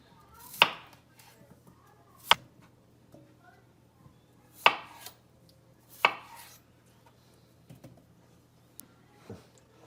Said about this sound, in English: we're going to chop these up into smaller pieces